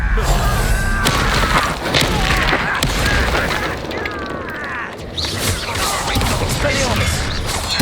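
Bombarda spell blast in the video game Hogwarts Legacy, heavy booming crashes and shattering debris amid dense battle sounds and a voice shouting, loud and continuous throughout.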